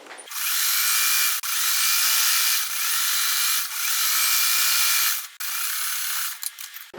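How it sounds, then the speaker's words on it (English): Sewing machine stitching a seam in fabric: a loud, steady motor whir in long runs that stop briefly and restart, close by with no voices. "I'm going to sew this seam."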